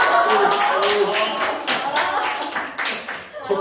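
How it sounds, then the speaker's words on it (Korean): Audience applause at a teachers' training session in a school, a dense sustained patter of many hands clapping at close range, gradually thinning toward the end, with some voices mixed in. "박수 주세요"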